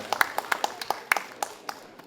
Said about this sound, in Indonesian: Tepuk tangan atas penampilan Askadina Koria